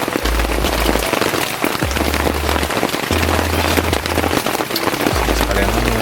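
Dense, steady patter of rain drumming on a taut tent close by, heard from inside the tent on a mountain, with intermittent low thumps underneath and no talking.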